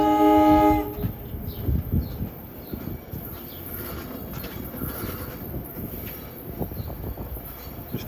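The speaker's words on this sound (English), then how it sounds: "Listen to that Westinghouse AA2 horn again." The Dinky commuter train sounds its Westinghouse AA2 horn in one short chord-like blast. Rumbling wheels and rail noise follow as the train rolls past.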